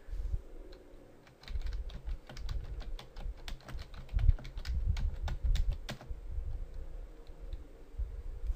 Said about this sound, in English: this is where you can type what you want to encrypt